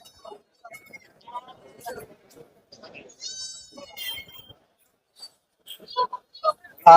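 Young goat kids bleat in short, scattered calls at a busy goat market in Kunnathur, with a louder, close bleat near the end amid faint background voices.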